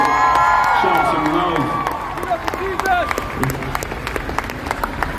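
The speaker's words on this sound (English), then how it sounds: "Can we give them a rowdy round of applause?" Festival crowd applauding and cheering for security guards and staff, a loud, continuous wash of clapping and whoops that starts strong and stays dense, with scattered shouts rising from the audience.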